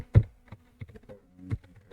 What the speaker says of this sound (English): So we can type average